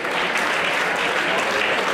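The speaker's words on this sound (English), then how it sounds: "Clap for that once again." An audience at an Easter comedy show claps on cue, a brief, dense, steady round of applause from a large crowd, loud and uniform throughout.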